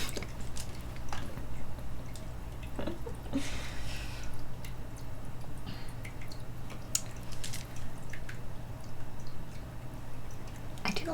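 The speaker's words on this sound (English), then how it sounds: "I do like the water sounds." Water dripping in a relaxed, chill setting: scattered soft drips and small splashes over a steady low hum, fairly faint and irregular.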